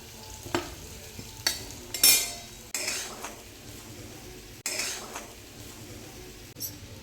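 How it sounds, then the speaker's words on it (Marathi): Chopped sweet potato with green chilli is stirred and sautéed in a pan, a bright sizzle broken by several sharp spatula scrapes and clinks against the metal, close and fairly loud, no talking. "बारीक केलेले रताळे घालूया त्याच्यामध्ये."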